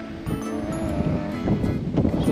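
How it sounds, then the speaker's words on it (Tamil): Strong wind sweeps across a rocky hilltop at high altitude near a temple in Kanyakumari, buffeting the microphone in a steady, loud, rough roar that swells slightly toward the end. "காற்றும் பார்த்தீங்கன்னா செமையாக அடிச்சுட்டு இருக்குது."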